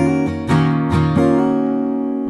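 Acoustic guitar playing a riff, a short phrase of chord strums with a pull-off on an up strum and a hammer-on on a down strum, four or five bright close-up attacks ringing into each other, no voices.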